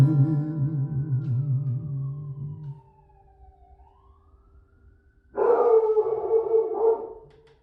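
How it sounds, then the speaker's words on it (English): A dog howls in long wavering tones with a distant siren gliding down in pitch during a quieter gap, then the dog breaks into loud, harmonically rich howling and barking at close range. "My dog's still barking up there."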